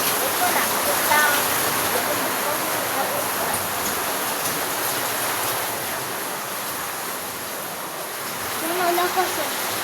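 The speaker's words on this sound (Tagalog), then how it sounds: "Lakas yung ulan eh." Heavy rain pouring down in a loud, constant hiss, with voices talking faintly over it at the start and end.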